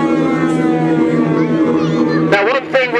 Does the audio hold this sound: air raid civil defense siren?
yes